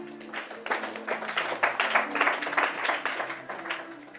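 A congregation claps and applauds during a church Bible teaching service, a steady, moderately loud patter of many hands sustained throughout, with a low hum of voices or music beneath.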